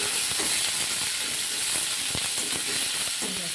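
Fish pieces fry lightly in a little oil, giving a steady bright sizzle and hiss with occasional soft knocks and stirring scrapes, close and continuous.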